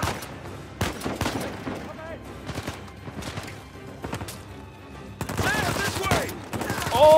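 Enemy gunfire in the Uncharted 4 video game, with repeated sharp shots and bursts in an irregular volley that grows denser toward the end, moderately loud with a few voices in the mix.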